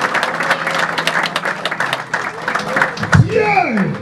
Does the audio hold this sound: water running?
no